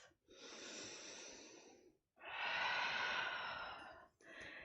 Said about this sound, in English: I'm gonna take another breath.